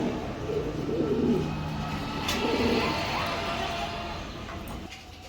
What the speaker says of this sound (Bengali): এখানে এক পেয়ার কবুতর দিলাম মিলি পাইটের ভিতরে